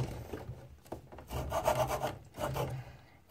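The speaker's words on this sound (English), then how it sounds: "next one I'm going to cut with this hacksaw" A hacksaw meant for metal cuts through wood during a barn build, giving a rhythmic rasping back-and-forth of close, steady strokes with a short pause between runs.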